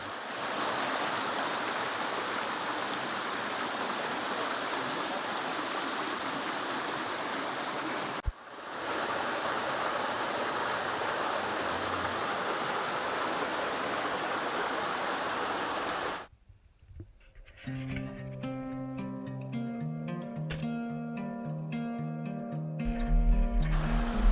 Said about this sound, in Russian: А здесь у небольшого ручья с маленьким водопадом мы немного отдохнули, освежились.